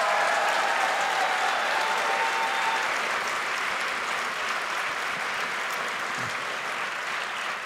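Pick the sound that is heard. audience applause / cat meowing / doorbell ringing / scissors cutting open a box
audience applause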